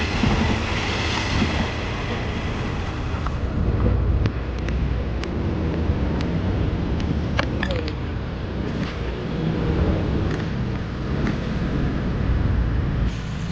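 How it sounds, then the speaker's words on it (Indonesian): A train passes along an active railway line at night near Bintaro, a loud, close, continuous rumble of wheels on rails with clicking joints and wind buffeting the microphone. "sekarang ada kereta nih lewat"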